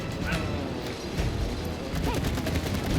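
Rapid video-game gunfire from It Takes Two, aimed at a swarm of bees, crackles in steady bursts with clattering impacts, forming a busy, continuous barrage at close range.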